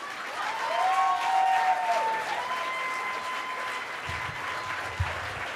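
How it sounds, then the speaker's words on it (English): A comedy audience applauds a performer, a steady wash of clapping that swells around the first couple of seconds and then holds, with a few cheers riding over it. "A round of applause for Marchand LaRoux."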